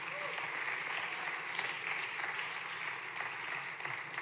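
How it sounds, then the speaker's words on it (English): Sustained clapping from a crowd, steady and fairly even throughout, with no pauses. "that deserves a round of applause"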